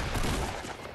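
Dense, continuous gunfire in a video game, a loud, close burst of overlapping shots with no gaps, lasting about a second.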